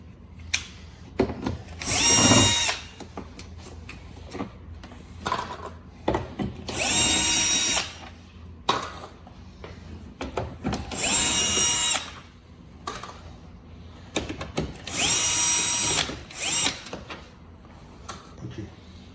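A power drill spins out the four 10 mm bolts along the top of a Hyundai Veloster N front bumper, giving four loud, separate whirring bursts with quiet pauses and small clanks in between.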